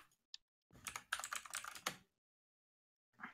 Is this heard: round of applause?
no